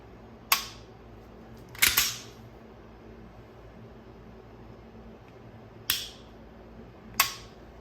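Four sharp, crisp clicks from dry-fire trigger pulls on a Sig P365 pistol fitted with a flat-faced trigger, each isolated and close, spaced a second or more apart over a quiet background.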